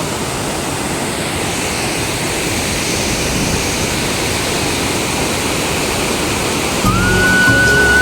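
Heavy rushing water roars steadily and loudly throughout, a dense continuous torrent overflowing a weir at Edulur, with no voices.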